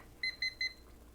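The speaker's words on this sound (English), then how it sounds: "So I'm gonna set a timer here" Three quick, evenly spaced high electronic beeps from a kitchen timer being set, clear and close in a quiet room.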